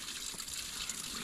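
Natural spring water overflowing from a collection point into a pipe, a steady close gushing and splashing wash that runs without a break and with no talk.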